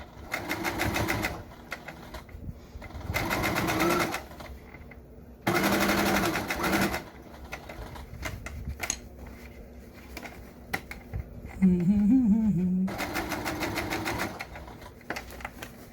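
A sewing machine stitches a fabric surgical skull cap in several rapid, loud bursts of mechanical chatter, separated by quiet pauses as the fabric is turned, with a person speaking briefly.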